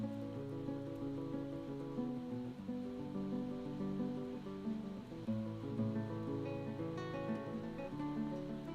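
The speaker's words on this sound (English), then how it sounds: "Oh boy, big rain here right now." Heavy rain in the video game Dwarf Fortress, a steady hiss of drops on surfaces that runs without a break under layered tonal game music, with no voices.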